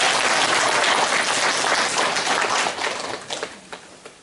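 A church congregation bursts into loud, sustained applause during a sermon, the dense clapping holding steady before thinning into scattered claps and fading out near the end.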